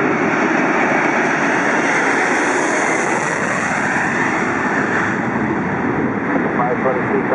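Jet engines of an Air China Boeing 747-4J6 roar loud and steady at close range during takeoff at Los Angeles airport, a continuous broadband rumble and whine with radio chatter in the background.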